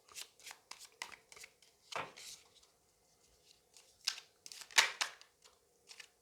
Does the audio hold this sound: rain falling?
no